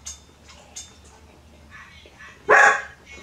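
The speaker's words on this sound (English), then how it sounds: "That's my dog." A dog barks outdoors in one short, loud burst near the end, preceded by a few faint distant yips over low background noise.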